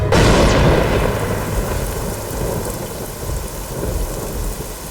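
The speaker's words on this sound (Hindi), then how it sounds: "इतनी बारिश में कहाँ जा रही हो?" Heavy rain pours steadily throughout, opening with a loud crack of thunder that rumbles away into a dense, continuous downpour with no talking.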